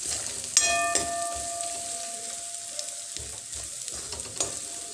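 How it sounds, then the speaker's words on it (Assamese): Spices fry in a pan after salt and amchur powder are added, a close, steady sizzle marked by a brief ringing metallic tap near the start and occasional stirring knocks. "এইখিনি এতিয়া মই অকণমান আকৌ ফ্ৰাই কৰি ল'ম"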